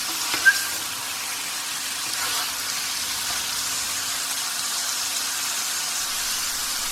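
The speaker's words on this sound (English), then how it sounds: "So we're going to fry this liver nicely till it turns nice and brown." Chicken liver frying in spices, Anglo Indian style, a soft steady sizzle and hiss close by with a single light clink near the start, continuous and fairly quiet, no talking.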